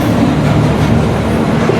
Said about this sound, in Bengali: আমরা পোড়াদাহ রেলওয়ে জংশন স্টেশন থেকে আমাদের এই মহানন্দা ট্রেনটি ছেড়ে যাচ্ছে